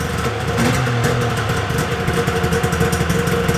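A Polaris Indy XLT 600 triple two-stroke snowmobile engine idles close by, with a loud, steady, slightly uneven burble that has a pulsing beat and is heard with no voices over it.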